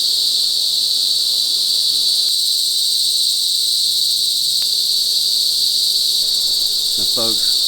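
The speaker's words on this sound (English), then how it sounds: "It's crickets, whatever the hell they are." Loud, continuous high-pitched cricket chirring fills the air, a steady dense insect drone with no pauses, a brief faint sound near the end.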